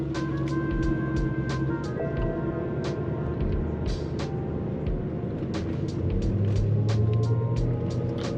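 BMW E92 M3 pulling away, its engine a steady low rumble with gentle pitch shifts, heard from inside the car alongside recurring light clicks and ticks.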